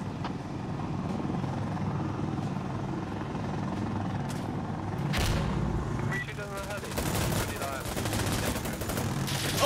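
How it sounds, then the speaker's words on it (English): Mi-24 helicopter gunfire in Insurgency Sandstorm, a dense clatter of automatic fire layered over a steady rotor drone, swelling louder midway with bursts of rapid shots and voices speaking amid the din. "The MI-24 just is gunning for me"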